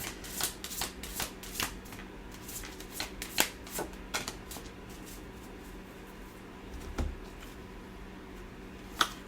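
Vintage Wisdom oracle cards are shuffled by hand, a soft steady riffling with sharper card snaps scattered through, close and quiet with no talk.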